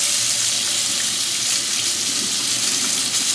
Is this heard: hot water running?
yes